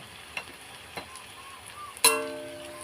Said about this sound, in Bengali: একটু লাল করে ভাজতে হবে।